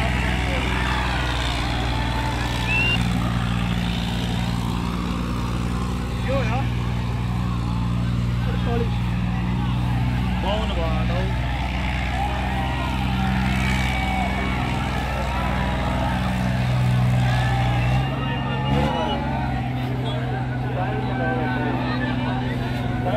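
A Sonalika DI-35 tractor engine runs steadily and loud throughout, its low hum constant and close, with voices talking in Hindi over it.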